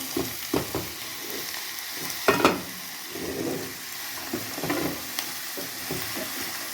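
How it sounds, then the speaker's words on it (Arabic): Peas frying with onion and meat in a pan, a steady low sizzle broken by several scraping stirs and clatters of a utensil, close by, with no talk. "احنا شوحنا البسله اهي مع البصل ومع اللحمه"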